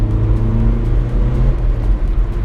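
A tuned 2012 Seat Ibiza FR diesel pulls hard in third gear, its engine droning loud and close from inside the car, pitch climbing slightly over a couple of seconds with no talking.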